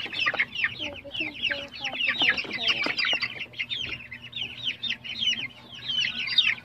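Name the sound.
pure Piela Asel chicks peeping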